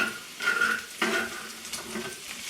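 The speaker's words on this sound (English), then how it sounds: "Some people are going to freak out that I'm using a metal implement on my cast iron" A metal utensil scrapes and stirs in a cast iron pan while food sizzles and fries underneath, with a few sharper scraping strokes over a steady crackle.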